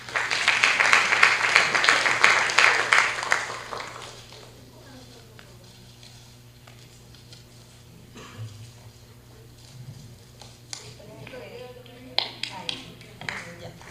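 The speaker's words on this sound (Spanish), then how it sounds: "Lo recibimos con unas palmas." An audience at a law seminar applauding to welcome a speaker, a burst of fairly loud clapping for about four seconds that then fades into quiet room sound with scattered small taps and faint voices.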